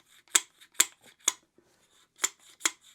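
Five sharp metallic taps from an adjustable spanner being tapped to turn a snug copper pipe on a Watchman power tube, spaced irregularly about half a second apart, close and crisp in a quiet room.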